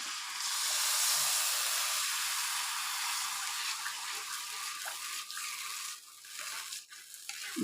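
Steady bubbling hiss of sugar syrup boiling in a pot for wheat halwa, continuous and close, with slight crackling variations and no voices.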